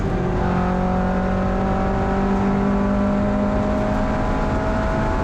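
A turbocharged Mazda MX-5 race car accelerates hard alongside an NC MX-5, its engine note climbing in a loud, sustained rising whine heard from onboard.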